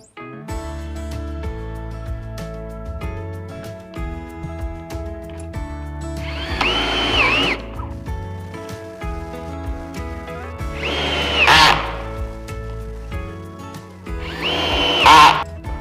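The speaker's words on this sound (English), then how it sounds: "We are pre-drilling holes so that our screws go in very easily." A power drill whirs steadily close by, rising to three harsher grinding bursts as the bit pre-drills screw holes in wood for a coffee table.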